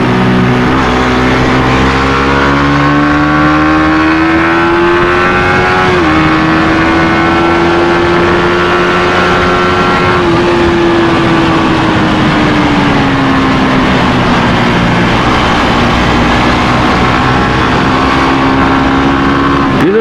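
A Suzuki GSX-S150 motorcycle engine revs hard and loud up to its rev limiter, rising and holding a high buzzing whine with brief dips as it bounces off the cut. The sound stays close and continuous with no speech.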